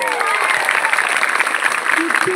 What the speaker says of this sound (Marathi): प्रचंड टाळ्या वाजवायच्या आहेत